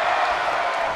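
A fired-up arena crowd at a wrestling pay-per-view in WWE 2K19 roars in a steady, dense wash of cheering, loud and unbroken for the whole moment.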